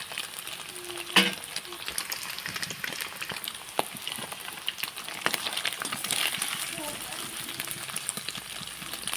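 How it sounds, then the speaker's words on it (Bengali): Paneer frying in a pan: a steady, moderate sizzle with scattered clinks and scraping stirs throughout, close by and fairly even in loudness. "আমার পনিরটা হালকা করে লাল লাল করে ভাজা হয়ে গেছে"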